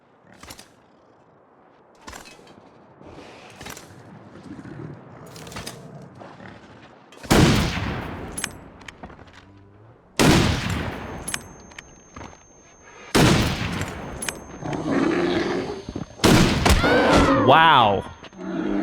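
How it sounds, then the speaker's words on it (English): Four loud, sharp gunshots ring out one after another at spaced intervals in the survival video game The Long Dark, each with a booming echoing tail, after a stretch of quieter ambient noise. "That's 4 shots."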